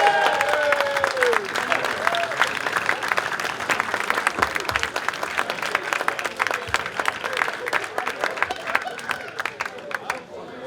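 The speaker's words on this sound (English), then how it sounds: "Can we give a massive round of applause back to a club legend that is Adrian Barry" An audience at a football club presentation applauds a club legend, clapping steadily with some cheering and crowd murmur, voices heard among the claps.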